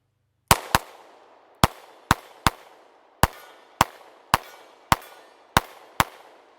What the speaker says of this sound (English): So let's do some more shooting here.